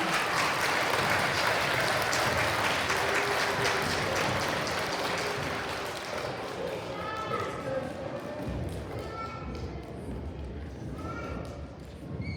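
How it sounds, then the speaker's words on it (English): Applause for an award winner at a first and second grade school awards assembly, steady clapping that gradually thins out and fades, with voices talking over the tail end. "Give him a round of applause."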